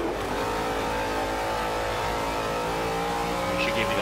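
A V8 Supercar racing engine in the OZFM racing game holds a loud, steady high-pitched drone that climbs slowly in pitch, with other cars' engines layered beneath and no pause throughout.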